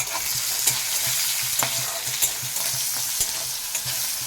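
Green and ripe chillies fry in a pan with salt and turmeric, giving a steady close sizzle broken by regular scraping stirs of a spatula, with no voices.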